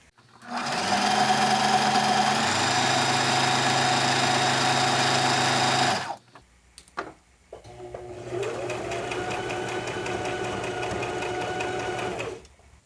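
A sewing machine stitches the skirt of a 1950s-style dress in two long, steady runs, a constant mechanical whir close by, broken by a short pause with a few clicks and shuffles between them.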